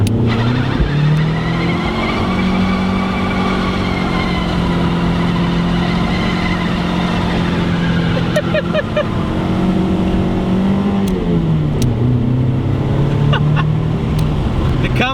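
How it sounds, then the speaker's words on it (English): A car doing a burnout, its engine revving high and holding a loud, wavering roar with pitch dips and rises while tyres squeal, as people react in the background. "Oh my God, do a burnout."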